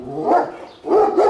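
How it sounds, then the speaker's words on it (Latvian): Dogs barking outdoors beside a wooden dog kennel, with two loud, close barks separated by a short pause and no speech. "Suņi arī rei."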